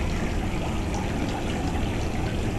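A jungle park fountain gushes and pours in a loud, unbroken splashing wash, close and steady throughout.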